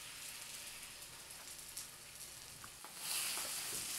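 Beaten egg poured into a sizzling shrimp masala in a pan for Tamil-style eral muttai podimas, a steady close frying hiss that swells louder near the end as the egg hits the hot pan.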